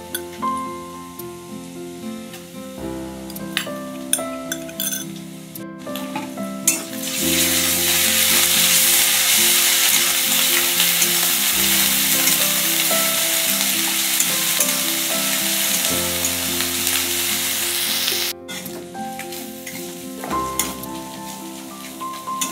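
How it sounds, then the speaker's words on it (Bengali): Onion and garlic with ginger-garlic paste fry in a pan, a loud continuous sizzle that surges and holds strongly for a long stretch, close up, with occasional utensil scrapes and faint background music tones. "পেঁয়াজ রসুনগুলো লাল লাল করে ভাজা হয়ে গিয়েছে"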